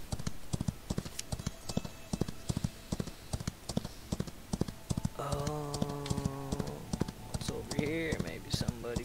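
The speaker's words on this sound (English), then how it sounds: "the only way to level up this horse is by doing just what I'm doing. You gotta just run and run and run and run" Rapid hoofbeats from a galloping horse in a Western online video game thud in a steady, driving rhythm, with game music tones joining partway through; no one speaks over it.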